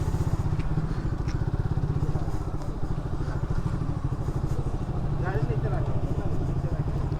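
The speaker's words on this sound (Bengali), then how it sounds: "ঢুকানো যাবো বাইক, যাক বাইক একবারে ঢুকাই দিই।" A motorcycle engine runs close by with a steady, rumbling, fast-pulsing putter throughout while it is ridden into a tight spot, and people talk over it.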